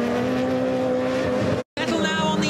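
An RX supercar engine roars at high revs during a head-to-head race event, a loud sustained rasping drone that cuts out briefly and then resumes with a rising pitch.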